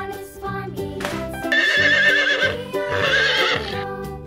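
A toy plays a recorded horse neigh, a shrill whinny repeated twice, mixed with clip-clop hoofbeats and a bouncy tune, close and clear.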